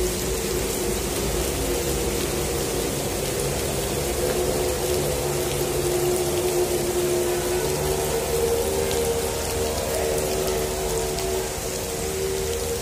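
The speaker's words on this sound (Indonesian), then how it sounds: "Masih deras hujannya." Heavy rain pours steadily over a flooded bus terminal in Jakarta, a dense continuous roar of drops on surfaces with a low background hum, unbroken and without voices.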